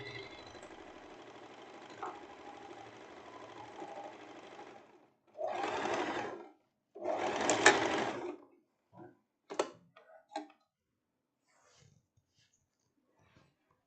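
A sewing machine stitches the side seams of a tank top in a few short bursts. A steady run of about five seconds is followed by two louder bursts and several brief final stitches, close and fairly quiet.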